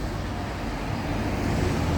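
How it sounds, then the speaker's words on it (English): Road traffic passes continuously nearby, a steady low rumble of cars rolling by with a slight swell toward the end. "Of course, 900 million cars are gonna roll by."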